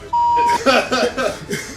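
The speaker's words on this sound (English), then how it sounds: "there gonna be like a little bleep or something there?" Censor bleep over cursing: a short pure tone cuts in briefly, then a voice speaks right after.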